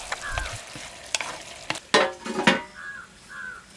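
Chopped ridge gourd and tamarind are stirred in a hot pan with a soft sizzle and a few scraping strokes, while crows caw faintly in the background.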